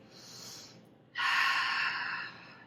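Deep breathing of a person resting in a restorative yoga pose: a soft, airy breath, then after a short pause a longer, louder exhale, close and alone with no talk.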